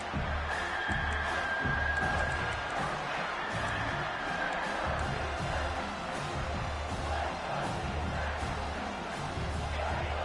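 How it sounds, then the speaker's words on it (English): A stadium crowd at an American football game roars steadily through the whole stretch, loud and continuous, with cheering and whoops rising over a dense wash of noise. "And here comes the noise. This crowd is trying to inspire this defense to make a big red zone stop."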